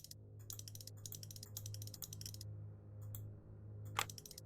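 Keypad buttons on a safe in a video game click as a code is entered, with bursts of crisp, close clicks over a low steady hum and one sharper click near the end.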